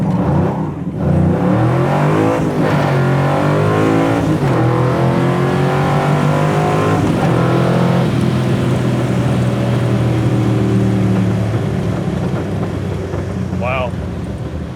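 A 1967 Chevrolet Nova pro street car accelerating down a street, its loud engine climbing through rising revs in several pulls with gear changes, close and dominant, with people talking over it inside the car.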